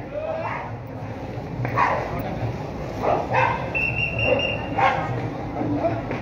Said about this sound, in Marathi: कधी कधी वाटतंय कुत्रे जबरदस्ती पाठवली काय.